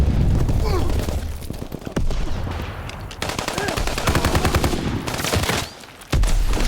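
Call of Duty WW2 gunfire: rapid automatic bursts and sharp shots crackle loud and close, with dense rattling volleys and a brief lull near the end before the firing starts again.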